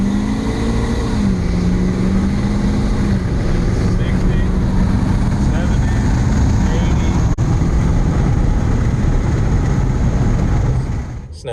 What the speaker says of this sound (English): check out this Snapchat right here of our 4-wheel drive booster launch last night